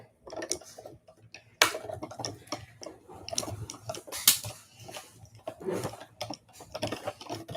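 A die cutting machine being hand-cranked, giving a run of dry ticking and clicking mechanical noises at close range, irregular in rhythm with a few sharper knocks and no talking.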